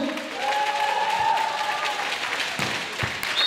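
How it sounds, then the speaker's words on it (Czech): Spectators at a CEV Satellite beach volleyball match in Pelhřimov between Norway and Slovenia clap and cheer for a team, a steady wash of applause with a few whistles, moderately loud and sustained. "A kdo fandí Jonu Bersonovi ze Stérumem?"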